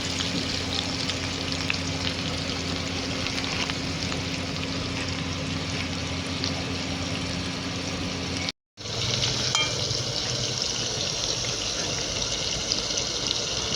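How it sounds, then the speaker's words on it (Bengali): Steady, loud sizzling of potatoes frying in hot oil with turmeric and salt, continuous throughout with a brief dropout near the end before the frying resumes. "আলুটা সবার প্রথম ভেজে নেব তেল হলুদ আর নুন দিয়ে আলুটা ভেজে নেব"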